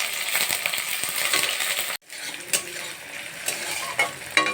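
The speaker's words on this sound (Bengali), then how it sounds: "পেঁয়াজটা হালকা একটু ভেজে নেব।" Onion frying in hot oil in a pan gives a loud, bright sizzle with stirring scrapes, a brief drop-out, then renewed crackling and clinks of a spoon against the pan.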